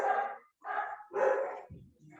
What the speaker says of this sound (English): Sorry about the dogs. We've got 4 dogs here.